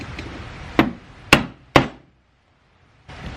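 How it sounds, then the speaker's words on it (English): Three sharp, close metallic strikes of a hammer driving a screwdriver used as a punch to stake a set screw on a Toyota Tacoma short throw shifter, evenly spaced, followed by silence. "it says to grab a punch so you can stake the set screw in"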